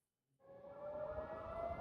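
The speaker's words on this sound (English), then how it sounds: "The sirens blared across Tel Aviv as this flight came in to land." An air raid siren in Tel Aviv rises out of silence and holds a steady, wailing tone, loud and sustained over a dense rumbling background.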